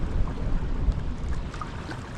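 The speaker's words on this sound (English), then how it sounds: "the wind going the other way. Makes for some surf." Wind buffeting and choppy surf slapping on a lake during a backcountry canoe trip, a steady dense rushing wash with no talk.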